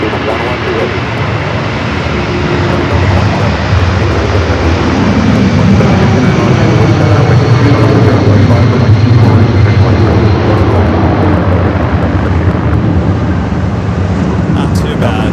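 A heavy airliner takes off from a runway at LAX, its jet engines building to a loud, sustained roar that continues through the climb with a rumbling low end and some wind buffeting.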